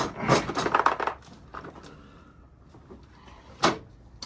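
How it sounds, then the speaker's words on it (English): A metal toolbox drawer is shoved and jiggled but won't close, giving a cluster of close rattling, clanking knocks followed by quieter shuffling and one more sharp clank. "My drawer won't close now."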